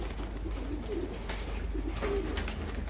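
Racing pigeons coo softly at their loft, a low repeated murmur against steady outdoor background noise.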